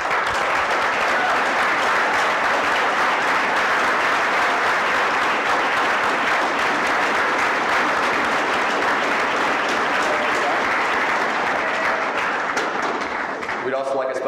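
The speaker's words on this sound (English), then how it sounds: "I'd like the audience to give a big round of applause." A large audience at a university startup competition finale gives sustained, dense applause for the student organizing team, loud and continuous for the whole stretch before fading at the very end.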